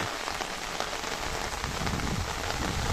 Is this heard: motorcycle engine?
no